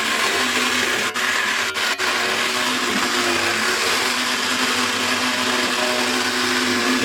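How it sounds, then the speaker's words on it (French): Blender whirring steadily as it purées small cooked pieces, loud and close with a couple of brief dips early on, then an even drone. "Je vais maintenant mixer les petits morceaux pour les ajouter à la préparation"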